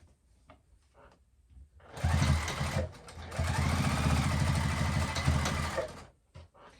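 A sewing machine stitches along the edges of a fabric pint cozy, running in two steady, buzzing bursts of several seconds each with faint handling noises before and after.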